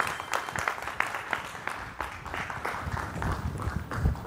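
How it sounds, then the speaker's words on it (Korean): Steady applause from a lecture audience at KAIST, a dense patter of many hands clapping at an even level throughout, with no voices over it. "큰 박수로 우리 황창규 회장님을 어, 맞이하도록 하겠습니다"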